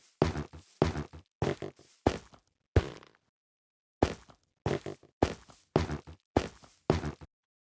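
Minecraft mushroom block sounds in a repeated sequence of short, soft, muffled thumps, about a dozen evenly spaced hits with a brief pause in the middle, close and clear with no talk.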